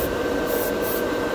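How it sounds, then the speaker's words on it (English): Badger airbrush spraying Mr. Metallic Color GX metallic paint from a compressor set to 15 PSI, a steady close hiss of air and atomized paint holding evenly through the short stretch with no talking. "This Badger airbrushes it really good. There's a quick coating."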